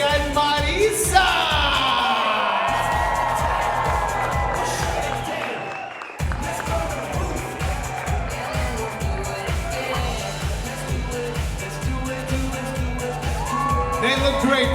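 Wedding reception guests cheer, whoop and clap over loud, thumping dance music with a steady beat. A voice also carries over the mix, and the music briefly cuts out before resuming.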